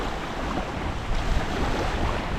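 Strong headwind blowing steadily over a lake while feeder fishing, a dense rushing roar with gusty swells near the middle, no talking.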